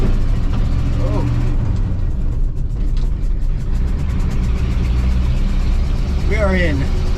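An old vehicle's engine runs steadily in third gear on a road, a loud continuous low rumble with rattling, while people talk over it throughout.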